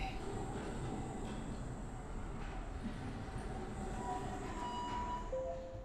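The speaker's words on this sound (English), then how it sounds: "These trams are so boring." Tram ride in the video game Abiotic Factor, a continuous rumbling rail hum with faint squeals and tonal whines layered over it, steady throughout with no talking.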